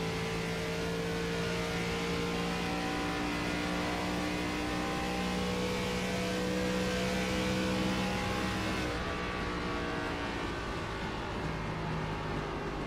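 A race car in the iRacing ARCA Series drones steadily, held at partial throttle with a constant mid-pitched engine tone and no pauses, running alone without talk.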